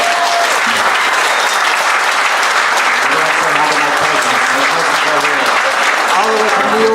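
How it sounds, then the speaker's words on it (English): Convention audience applauding the talent after a Dream Warriors Q&A panel at Chiller Theatre, a dense, loud and steady wash of clapping that runs for the full stretch with some voices mixed in. "Let's get a round of applause for our talent"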